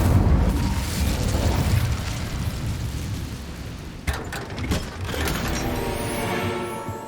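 Incendio fire spell cast in Hogwarts Legacy, a loud rumbling whoosh of flame that roars steadily, then a burst of crackling pops midway before a sustained fiery hiss.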